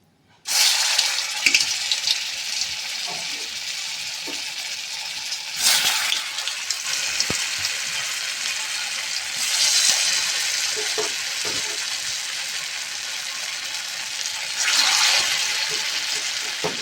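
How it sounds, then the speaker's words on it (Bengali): Loud, continuous sizzling of sago fritter batter frying in hot oil, with a few bursts where the crackle swells as more pieces go in. "এবার তেলে ছাড়বো। আমাদের তেল গরম হয়ে গেছে।"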